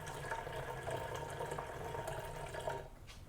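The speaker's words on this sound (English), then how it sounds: "we'll just fill the vinegar to that line." Vinegar pours into a measuring cup for a homemade weed killer as a steady, close liquid stream for about three seconds, then stops, with no talking.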